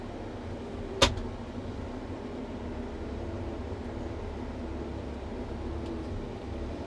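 A wheel loader is shifted into forward gear and begins driving, heard from inside the cab as a steady engine and mechanical drone after a single sharp click near the start.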